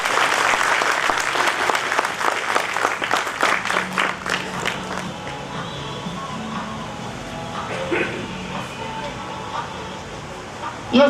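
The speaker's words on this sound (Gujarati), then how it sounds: "એકવાર જોરદાર તાળીઓથી સ્વાગત કરીએ." An audience applauds to welcome diamond businessman Govindbhai Dholakiya at a motivational speech event, with loud dense clapping that fades after a few seconds into crowd murmur and a host talking over it.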